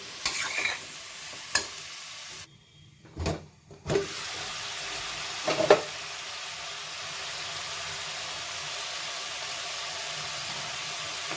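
Grated carrots for carrot halwa steam under a lid in a pan, a steady close sizzling hiss with a few light clinks and a brief quieter gap partway through, and no talking.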